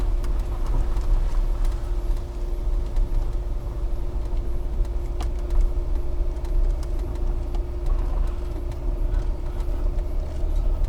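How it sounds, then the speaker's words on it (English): A Range Rover engine drones steadily through a countryside off-road drive, a constant low rumble with faint rattles, heard from inside the vehicle and unbroken by talk. "We're doing a bit of off-roading in the Range Rover"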